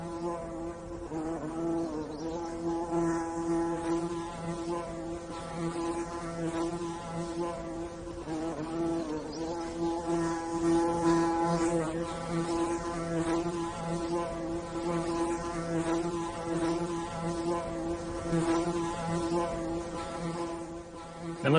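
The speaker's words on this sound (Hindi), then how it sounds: "मंच पे अगर आज मधुमक्खी छूट गई और पकड़ में नहीं आई तो सब भागने वाले हैं।" Honeybees buzzing on a stage, a dense, continuous droning hum that stays loud and close for the whole stretch with no speech over it.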